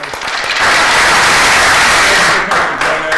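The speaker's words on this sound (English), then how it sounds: "let's clap it out" A studio audience claps loudly and steadily, a dense, continuous wash of applause that swells quickly and holds for a few seconds before thinning at the end.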